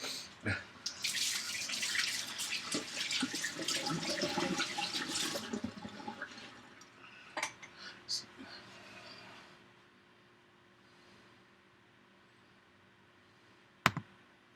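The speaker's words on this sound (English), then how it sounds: "I'm going to wash my hands." A kitchen tap runs as hands are washed, a rushing water stream for several seconds that tapers off, followed by quieter drips and small knocks, then near silence with one sharp click at the end.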